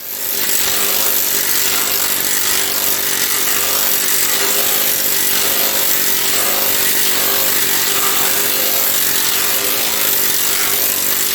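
A planishing hammer rattles continuously and loudly, a rapid pneumatic pounding on sheet metal with a harsh, buzzing power-tool character throughout.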